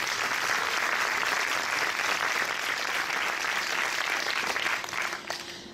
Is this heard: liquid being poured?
no